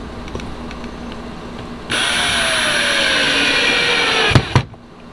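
A power drill set to low drives screws into the deck of a Lifetime Teton Angler kayak while a deck plate hatch is fitted. Its steady, close whine runs for about three seconds and ends in a couple of sharp knocks.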